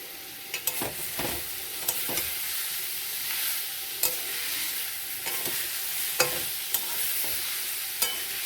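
Steady sizzle of ash gourd frying in a pan, with several sharp scraping knocks of a utensil stirring at irregular intervals.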